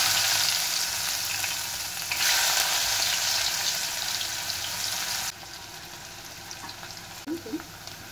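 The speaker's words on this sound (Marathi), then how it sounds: "मिरची झाली की त्यात आपण कांदा टाकायचा आहे" Onion frying in hot oil with chili and asafoetida, a steady close sizzle and hiss that softens partway through, with a brief clink of stirring near the end.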